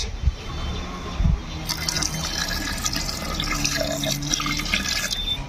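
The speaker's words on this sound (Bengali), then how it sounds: "এবার দিয়ে দিব আদা রসুনের রস" Ginger-garlic juice poured into a pot of mutton and potato pieces, a close liquid splash and trickle with a couple of knocks at the start, over faint kitchen background.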